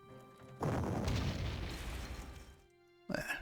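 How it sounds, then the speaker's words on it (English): A loud, deep booming artillery explosion in a World War II strategy game rolls out and fades over a couple of seconds, followed by a brief sharper burst at the end. "Eat the artillery hit."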